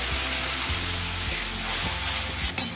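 Tomato, ginger and green chilli puree sizzles loudly in a hot pan while cooking aloo parwal sabzi, a steady close frying hiss with a few stirring thumps and a brief sharp burst near the end.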